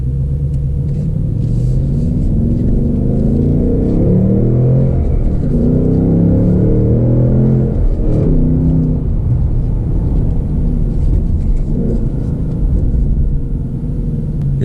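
A 2024 Ford Mustang GT with a six-speed manual rumbles around town, its deep V8 note rising and falling through several gentle accelerations and shifts, steady and close from inside the car.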